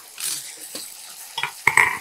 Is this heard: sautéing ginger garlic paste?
yes